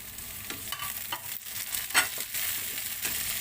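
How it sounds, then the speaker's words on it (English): Chopped tomato frying in a pan for crabs and shrimps in coconut milk, soft close sizzle with repeated spoon scrapes and stirring clatter over a few seconds. "And I just cook the tomato until it becomes soft."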